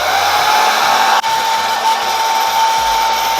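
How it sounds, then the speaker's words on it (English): A blow dryer runs loud and steady, drying grip gel glue on a lace wig, with a brief dip in its whir partway through before it resumes. "we can go ahead with a blow dryer to actually blow it out"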